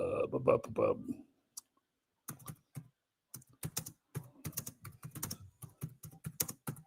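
Computer keyboard typing during a live stream, with bursts of clattering keystrokes and short pauses, following a brief stretch of someone talking at the start.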